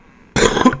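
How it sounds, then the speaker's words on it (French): A single harsh cough lands close on a microphone after a quiet lead-in, loud and broadband, with a brief second burst at the end, heard over a World of Tanks match. "Désolé, je vous augmente le son du micro pour mieux tousser."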